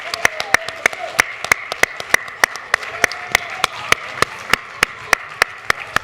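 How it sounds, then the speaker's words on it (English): A few people clapping at a talk with Dr. Eddie Glaude Jr., sharp separate claps landing in a loose, fairly regular rhythm close to the microphone over a quiet room. "Everyone, please give a round of applause."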